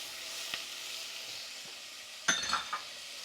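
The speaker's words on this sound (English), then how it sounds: "I like to cook the onion a little bit first before I put the garlic in" Onion frying in a pan for pumpkin soup, a soft steady sizzle throughout with a few light clinks and stirring scrapes of a utensil against the pan, quiet and close.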